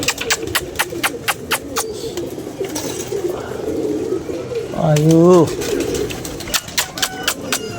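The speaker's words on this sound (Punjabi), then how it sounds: "ਕਬੂਤਰ ਉੱਤਰਦੇ ਹੀ ਪਏ ਨੇ" Pigeons coo while coming in to land, close and loud, with wing flaps and a clear rolling coo near the middle, as someone speaks briefly over them.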